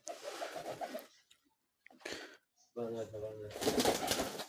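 Pigeons gather to eat, giving soft cooing calls and faint rustles between bursts of a person talking nearby; the bird sounds are intermittent and fairly quiet.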